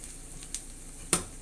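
Pancakes made from flour, eggs and milk fry in a pan with slightly too much oil, giving a soft steady sizzle broken by two brief sharp spits or utensil clicks.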